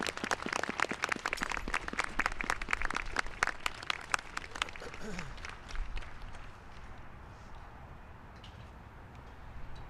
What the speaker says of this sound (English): I want to give just a momentary special round of applause to the Vietnam veterans and the service they did.